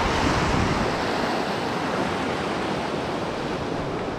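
Powerful rushing water of the Elwha River between Highway 101 and the Glines Canyon overlook, a steady, loud broadband roar with no pauses, heard alone without talk.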